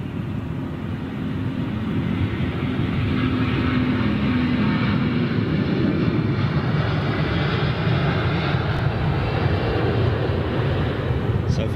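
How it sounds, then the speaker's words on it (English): A Virgin Atlantic Airbus A350 with Rolls-Royce Trent XWB engines roars steadily and loudly for several seconds, a broad continuous jet rumble that builds slightly at the start and holds, with faint speech underneath. "XWB Trent engines, still the same engine variant, the Trent, but this is the XWB, developed specifically for the A350."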